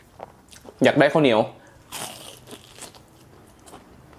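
A bite into a crunchy Thai fried pork skewer gives a short, loud burst of close crackling crunches, followed by quieter chewing. A person speaks at the start.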